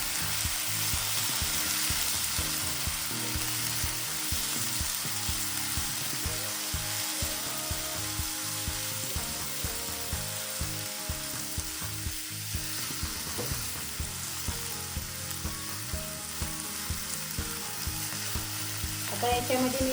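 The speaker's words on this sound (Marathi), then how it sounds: "आणि याच्यामध्ये मी टोमॅटो बारीक चिरलेला आहे, ते पण टाकून घेणार आहे. याला पण छान परतून घेते." Chopped tomatoes and green chillies sizzle and fry steadily in a hot pan while being stirred, with a continuous close, loud crackle and scraping throughout a paneer tikka masala preparation; no voices are heard.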